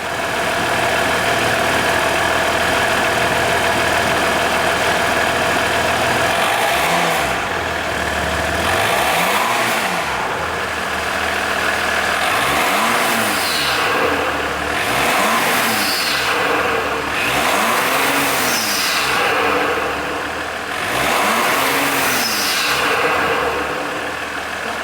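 A Jeep EcoDiesel fitted with an AFE intake and a turbo muffler delete idles loudly, then revs in six repeated rising-and-falling bursts spaced a few seconds apart, close to the microphone with no talking.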